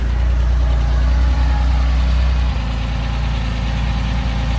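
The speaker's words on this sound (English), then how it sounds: "Motor sounds beautiful." A 1975 Porsche 911 coupe's engine idles close by, a steady loud low rumble that drops slightly in pitch midway and carries on evenly without talk.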